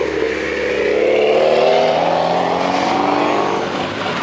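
A Mitsubishi Evo passes close by at a cars-and-coffee meet, its engine note loud and droning, rising and falling as it rolls past.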